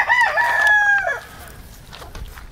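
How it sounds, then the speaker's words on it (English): A loose backyard chicken gives a loud, close, drawn-out warbling call lasting about a second, then fades into quiet outdoor ambience. "we have accidentally released a chicken"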